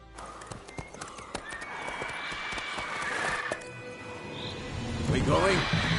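Roach, the horse in The Witcher 3, clip-clops along on hooves in steady quick beats. A whinny rises near the end, with voices talking over the game sounds.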